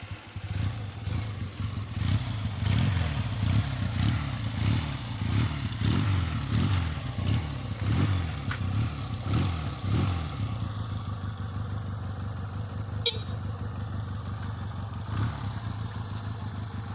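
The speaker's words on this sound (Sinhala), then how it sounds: "ඔයාලන්ට එන්ජින් සවුන්ඩ් එක බලා ගන්න පුළුවන්" A Honda CD 125 motorcycle fitted with twin silencers runs close by, its engine throbbing in a steady low putter with rhythmic revving pulses through the first ten seconds, then settling into an even idle.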